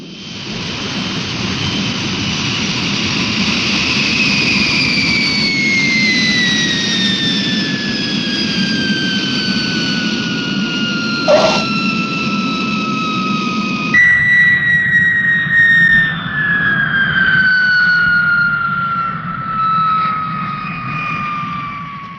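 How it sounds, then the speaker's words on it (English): Aircraft jet engines in flight, a loud continuous roar with high whining tones that slowly fall in pitch, with a brief shift midway and no voices. "Man, that's what I call an aircraft."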